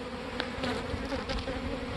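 Honey bees hum steadily around a hive during swarm season, a dense, continuous drone with a few louder passes of individual bees close by.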